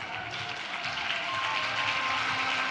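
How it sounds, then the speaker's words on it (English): A large crowd claps in appreciation at a political party's manifesto launch rally, a steady, distant wash of applause with a faint tone running under it. "I want all of you to clap in appreciation."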